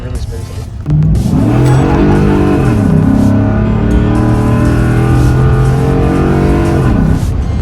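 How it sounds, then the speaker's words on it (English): A 2014 Ford F-150 Raptor pickup's engine intake roars steadily, a deep growl building then holding loud and close, with a voice speaking briefly over it. "I love that sound it makes too. That's the intake."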